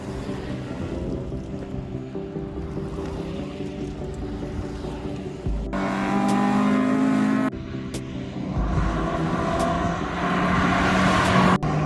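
Group B Time Attack race cars run on a track at a Winnipeg Sports Car Club event, steady engine drone rising as cars accelerate and pass closer, with louder revving bursts in the second half.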